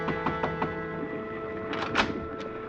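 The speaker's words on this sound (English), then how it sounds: "there was a tap on my cabin door." A light tap-knock on a ship's cabin door in an old radio drama, a short run of quiet, close raps followed by a couple of soft thuds with no voices.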